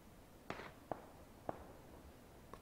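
Distant gunfire in the battle-royale game PlayerUnknown's Battlegrounds: four faint, isolated shots spaced irregularly over a couple of seconds, each a short crack fading quickly, heard alone against quiet background.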